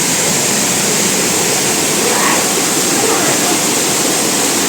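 Seen up close in the Konkan hills at Nivendi, Somtirth waterfall pours with a loud, unbroken rushing roar that fills the whole stretch evenly.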